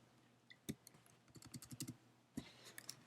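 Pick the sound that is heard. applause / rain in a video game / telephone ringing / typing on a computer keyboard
typing on a computer keyboard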